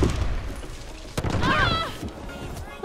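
Gunfire from a VEPR rifle in a Halloween 2017 video game, a few quick shots in the opening second followed by a sharp crack near the middle, with game effects and background noise throughout.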